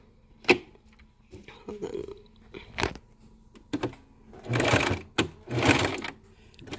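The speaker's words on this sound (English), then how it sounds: "so what I do is just I sew them just like that" A sewing machine stitches fabric for a 3D mask in short bursts of rapid mechanical whirring, each a second or less, separated by pauses and soft handling clicks, close and fairly quiet.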